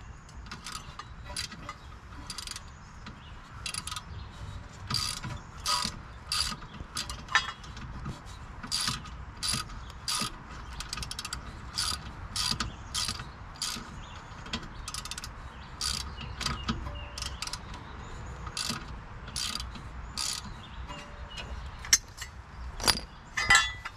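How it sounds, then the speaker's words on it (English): A rusty brake caliper is worked off a car with a rapid series of metallic clicks, scrapes and clinks, close and fairly steady throughout, with faint rattling in between. "We'll pull this caliper off."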